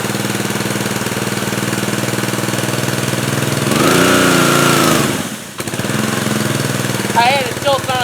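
A gasoline engine on a pressure washer whose pump is not working runs steadily at close range, a loud droning chug that rises briefly in pitch and strain before dipping. A voice speaks near the end.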